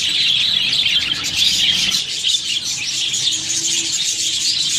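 Budgie parrots in an aviary colony chirp and twitter continuously in a dense, bright chorus close by, with no voices over it.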